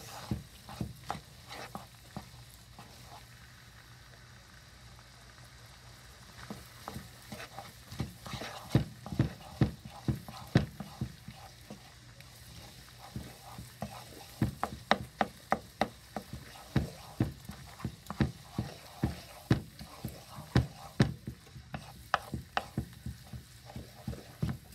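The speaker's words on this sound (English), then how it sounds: "Get a wooden spoon" A wooden spoon stirs a lasagna mixture with garlic in a pan, giving a long run of close, irregular knocks and scrapes with soft sizzling underneath; the strokes come faster and more steadily toward the end.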